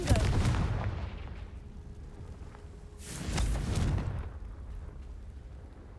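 In a Harry Potter video game, the Confringo spell sets off a deep booming explosion at the start and another rumbling blast midway, each fading into a low roar.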